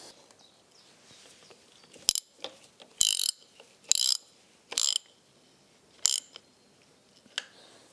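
Short, sharp bursts of ratchet clicking come from tightening the tensioner bolt on a Ford Pinto SOHC engine during a timing belt change, five or six quick spurts spaced irregularly, with light tool taps between them and no talking.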